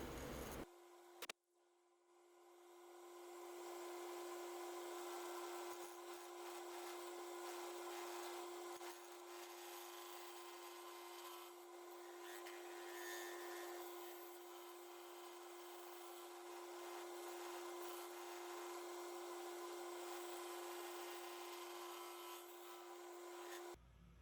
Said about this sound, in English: Working on a tenon with the skew chisel.